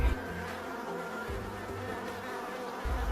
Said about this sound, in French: J'enfume d'abord par les petits trous pour pouvoir envoyer les abeilles de côté